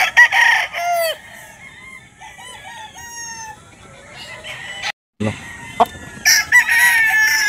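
A gamefowl broodcock at a game farm crows loudly several times, the calls rising and falling among other roosters clucking and crowing nearby, with a brief dropout midway before more crowing.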